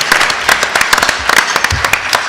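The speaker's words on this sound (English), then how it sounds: "So big round of applause for our panelists." A live audience applauds panelists at the close of a panel discussion, with dense, steady clapping across the short stretch and a brief low voice murmur partway through.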